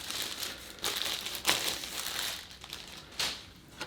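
Plastic wrapping crinkles and crumples in a few short bursts, close and quiet, as a YouTube Silver award is unwrapped.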